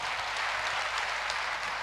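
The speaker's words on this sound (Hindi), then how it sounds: "जोरदार तालियां प्लीज़" Applause from an audience at a 2015 Forever Living success day event in Ahmedabad, a steady dense wash of many hands clapping held evenly throughout, with no speech over it.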